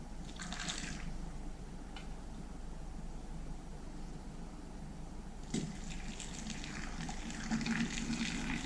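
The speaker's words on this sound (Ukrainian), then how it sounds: "Потихеньку починаю заливати окропом." Boiling water is poured over tomatoes packed in glass jars, making a quiet, steady trickling and gushing with a few brief splashy surges, close by in a home kitchen.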